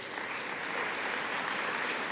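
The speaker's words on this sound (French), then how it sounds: "je crois qu'on peut tous applaudir notre ministre" A congress audience in Chambéry applauds the minister, a steady, dense wash of clapping that holds at an even level throughout, with no voices standing out.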